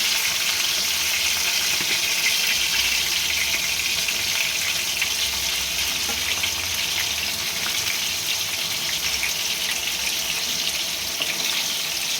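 Chicken fries in a pan with a dense, continuous sizzle, a loud, unbroken hiss resembling running water, close and steady throughout with no voices.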